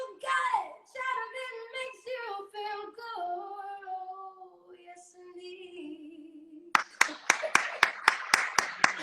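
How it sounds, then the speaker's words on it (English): A female singer's sustained, melismatic vocal line from a studio performance of a new single fades out, then a small group claps in a quick, even rhythm: about eight sharp, close hand claps over the last two seconds. "everyone here is clapping."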